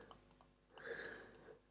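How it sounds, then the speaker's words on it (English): A command being typed on a computer keyboard in a quiet room: a handful of light, close key clicks at an uneven pace, very faint overall. "So you need to type conda"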